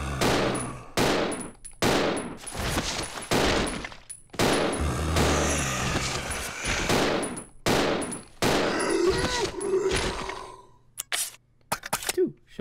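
Handgun shots in Resident Evil 0 ring out as a string of sharp, loud cracks at uneven intervals, some closely spaced, with a few quieter clicks toward the end.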